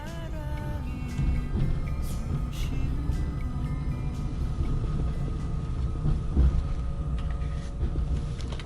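A passenger train bound for Chuncheon rolls along on its rails, a steady loud rumble with rhythmic clatter throughout and no voices.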